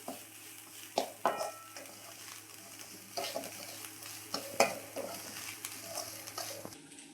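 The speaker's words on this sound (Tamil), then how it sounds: "இது நல்லா இந்த ரவையோடு நல்லா வறுத்துடலாம்" Grated coconut and semolina (rava) dry-roast together in a pan for pasiparuppu ukkarai, with soft scraping stirs and a few sharper spoon knocks on the pan, fairly quiet, no voices.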